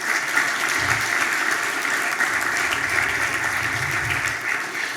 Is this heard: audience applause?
yes